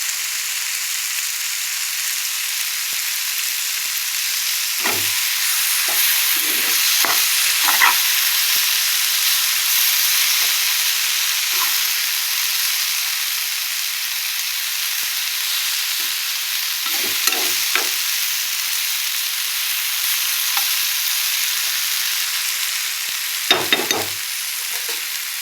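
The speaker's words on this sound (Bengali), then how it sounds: "দেখো লাগছে ঝিঙেও রেডি হয়ে গেছে আর পোস্তটাও ভাজা ভাজা হয়ে গেছে" Poppy seeds and ridge gourd fry in oil with a steady, close hiss of sizzling, interrupted now and then by soft scrapes and clinks of stirring.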